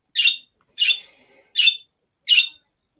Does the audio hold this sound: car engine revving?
no